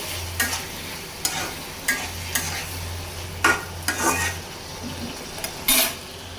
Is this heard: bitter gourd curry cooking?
yes